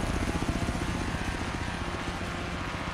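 A helicopter in the racing game Forza Horizon 3 gives a steady, loud rotor thump with a dense engine whine, close and continuous throughout.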